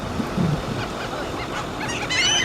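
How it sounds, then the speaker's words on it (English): Seagulls call over Biloxi Beach, with a few honking cries near the start and a louder harmonic squawk toward the end, set against a steady wash of surf and wind. "These seagulls going batshit crazy over here."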